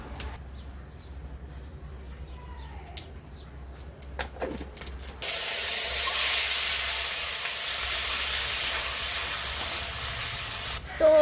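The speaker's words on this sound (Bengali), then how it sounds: "এখন আমি তেল দিয়ে দেব। আমি টমেটোর ঝাল চাটনি করব, তো ফার্স্টে আমি সর্ষে ফোড়ন দিয়ে দেব।" Mustard seeds tempering in hot oil in a kadai for a spicy tomato chutney, with a low crackle at first, then a sudden loud, steady sizzle and hiss from about five seconds on.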